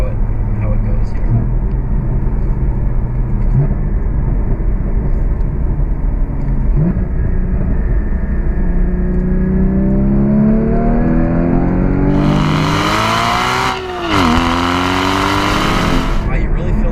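A Porsche Cayman GT4 engine pulls hard from second into third gear, its tone climbing steadily and loudly near the cabin, with a brief dip at the shift before the revs rise again under steady road noise and some talk.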